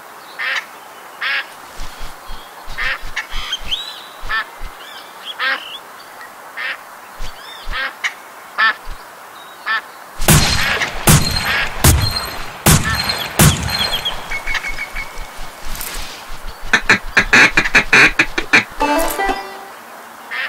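Ducks in the Duck Dynasty hunting game quack in short repeated bursts, starting sparse and growing busier, with a dense volley of shotgun blasts cracking through the second half.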